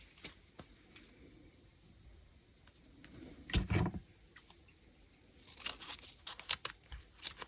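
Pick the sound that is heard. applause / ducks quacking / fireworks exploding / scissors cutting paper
scissors cutting paper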